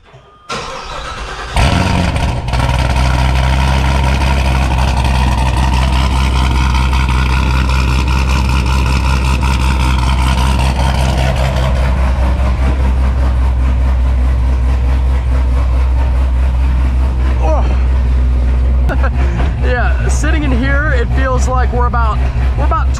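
A car engine cold-starts after a short crank, catching with a loud burst and settling into a steady, rough idle up close, while people talk over it later on.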